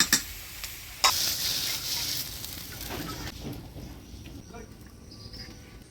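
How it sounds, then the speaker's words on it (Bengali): Dhekia fern greens tempered with black cumin and dried chilli sizzle steadily as they are stirred in a pan, with a sharp scrape of the spoon early on and a soft, continuous fry fading slightly toward the end. "ঢেকিয়া শাক ভাজা আজকে কাকি তুলে নিয়ে আসছে।"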